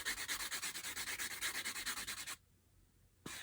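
Rapid rhythmic scrubbing strokes of sanding a resin model wheel with a sanding sponge, about five per second, loud and close, stopping abruptly before a short burst resumes.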